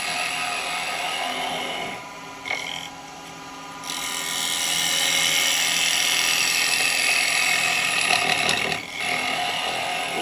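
A carbide bowl gouge making a pull cut on a spinning wood lathe gives a loud, steady scraping hiss over the motor's hum, briefly dropping away twice before resuming.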